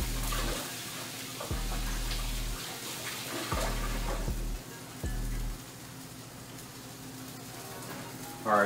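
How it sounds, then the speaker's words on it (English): Tap water runs in a kitchen sink while hands are washed, with a steady close splashing stream that breaks off and restarts several times, no talking. "Let me wash my hands."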